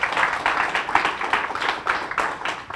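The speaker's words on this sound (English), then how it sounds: "I think that deserves an applause" An audience applauds at a back-to-school supply drive event, a moderate patter of hand claps from a modest crowd with a rippling, uneven rhythm throughout.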